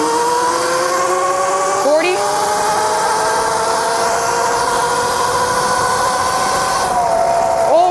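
A cheap Qronge X1 Spark M electric bike motor on a top speed run in mode 3 gives a loud, close whine that climbs steadily in pitch, dipping and rising twice, over rushing wind.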